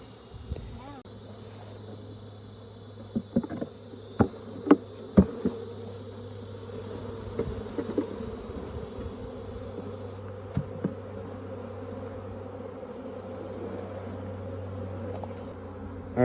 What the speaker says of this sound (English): all these extra bees we're gonna just shake in there